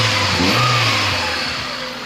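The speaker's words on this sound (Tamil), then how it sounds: "இன்ஜின் நாய்ஸ் வந்து வெளியே போய் கேட்டு பாருங்கள்" A 2005 Maruti Suzuki Baleno sedan engine revs up and settles back, heard close from outside the car, a smooth mid-pitched rise that fades toward idle.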